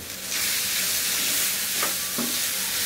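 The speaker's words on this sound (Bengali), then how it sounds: "পেস্ট দিয়ে এটাকে একটু মিনিট খানেক ভেজে নিব, যাতে পেস্টটা একটু ভাজা ভাজা হয়" Tomato paste frying in a pan, a close, continuous hissing sizzle with a couple of soft utensil touches near the end.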